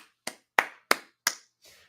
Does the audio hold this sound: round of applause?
yes